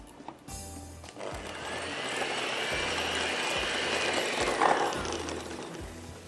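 An electric beater whirs steadily while mixing custard for cupcakes, a continuous mechanical motor hum with a faint rattling texture that lasts the whole stretch, fairly close and unaccompanied by talk.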